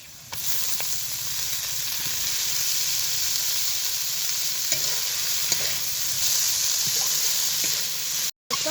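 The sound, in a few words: frying leafy greens in a pan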